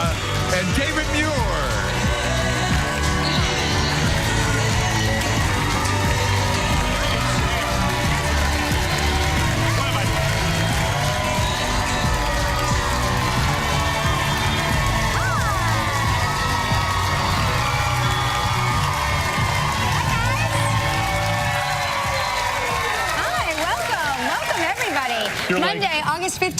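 A studio audience cheers and whoops loudly for the talk show hosts, a dense, sustained roar of shouting and applause lasting the whole stretch, with a voice talking over it.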